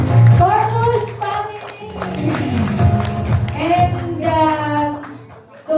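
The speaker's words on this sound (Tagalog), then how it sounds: "Isang palakpak naman sa Rombawa family." Wedding guests applaud for a family at a December reception at Westwood Farm, a short burst of clapping at the start beneath an amplified speaker talking, with crowd murmur through the rest.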